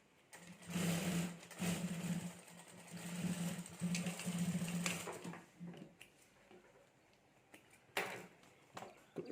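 A sewing machine stitches the sides of a fabric clutch bag in several bursts of rapid whirring, pausing between runs, with light handling noises in the gaps.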